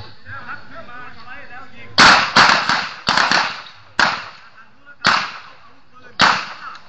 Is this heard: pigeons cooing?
no